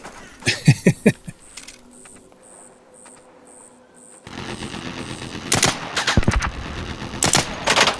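Gunfire in the video game Arc Raiders, with a loud rapid burst of shots at the start, a quieter stretch of beeping tones, then dense repeated firing and impacts toward the end, with no voices.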